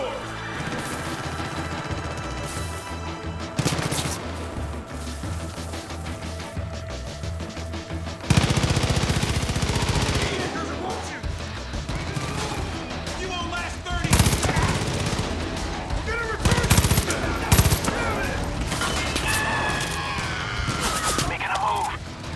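Bursts of automatic gunfire and heavy shots ring out in a Far Cry 5 firefight, loud rapid volleys recurring through the stretch, with a player talking at times over the shooting.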